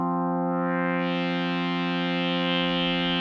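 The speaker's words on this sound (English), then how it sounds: "You can hear that sharpness and that emphasis on where the cutoff frequency is set." A steady, buzzy synthesizer tone holds with a sharp, resonant edge in its upper harmonics, sounding bright and slightly nasal throughout.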